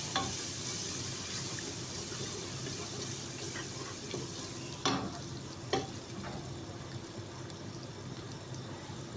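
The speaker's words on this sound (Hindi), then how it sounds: "3 से 4 मिनट तक इसको भुनाई करेंगे।" Steady sizzling of tomatoes and masala frying in a pan, with a few scraping stirs of a spoon partway through; no voices.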